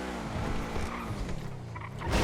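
Tires squeal as a car swerves through a turn and brakes hard in GTA V, a steady loud screech over engine noise with no talk.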